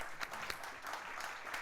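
Audience applause at a startup speaker event in Barcelona, a steady wash of clapping with scattered sharper claps, fairly faint and distant, lasting under two seconds.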